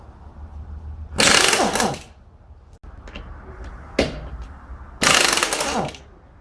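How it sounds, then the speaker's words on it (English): Impact wrench fitted with an 18 millimeter deep impact socket removing lug nuts on a 2005 Ford Focus during a front brake job: two long loud rattling bursts with a short burst between, close and alone. "I went and got an 18 millimeter deep impact socket, and I'm gonna keep going"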